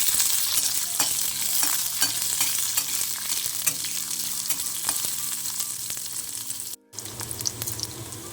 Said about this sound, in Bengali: পেঁয়াজটা একটু ভাজা হয়েছে।